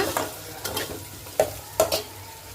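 Ginger garlic paste frying for a brinjal and chana dal curry, a low sizzle with a few sharp stirring scrapes and clinks against the pan.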